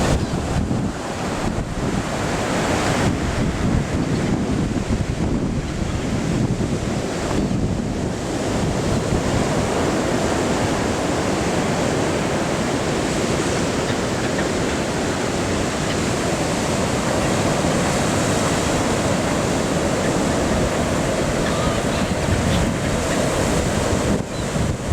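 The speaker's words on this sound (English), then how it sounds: "Plenty of heavy seas coming ashore." Heavy sea waves roll ashore at the mouth of the River Carron, a loud continuous roar of surf with wind buffeting the microphone and no voices.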